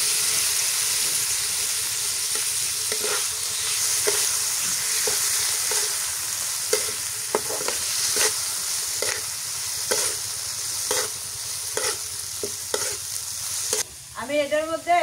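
Onion paste with garlic and chili frying in oil, a steady sizzle under repeated sharp scrapes of a stirring spoon, with a brief squeaky metallic scrape near the end; no talking.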